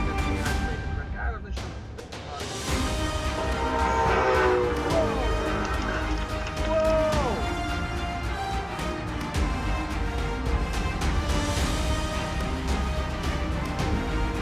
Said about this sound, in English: a train crashes through a truck that's carrying a massive concrete highway barrier